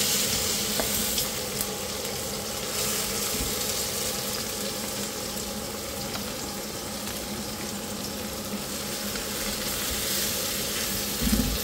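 Plenty of onion being stir-fried in a pan for pancit canton, a steady dense sizzle with scraping stir strokes running evenly throughout, close and moderately loud with no talk.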